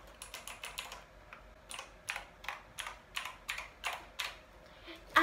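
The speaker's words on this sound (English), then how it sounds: "I love clicky keyboards." Rapid clicky keystrokes on a Razer BlackWidow V3 Quartz mechanical keyboard, a fast burst followed by steadier, evenly spaced sharp clicks, close and crisp in a quiet room.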